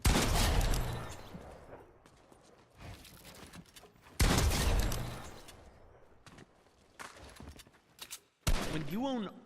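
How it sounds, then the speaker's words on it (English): Gunfire in Fortnite aimed at a sentry, loud bursts of shots in several separate clusters with quieter gaps between, and a voice talking underneath. "Practice taking some shots on this first sentry here."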